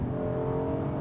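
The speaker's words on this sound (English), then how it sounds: "Mash the throttle and," A 2014 Kia Sorento's upgraded V6 under full throttle gives a steady, loud engine roar with a rich layered hum, heard from inside the cabin with no talking.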